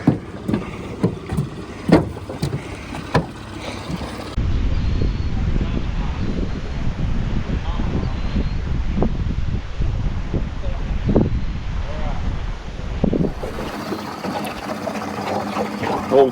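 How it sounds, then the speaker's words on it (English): Old 20 horsepower Yamaha outboard motor pushing a small boat across a pond, a steady close buzzing drone with wind buffeting the microphone, and voices talking over it. "Old 20 horsepower Yamaha."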